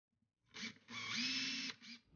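A power drill whirs in short close bursts, a brief pulse then a longer steady run and a final short spin, driving screws into a wall plate for a network jack.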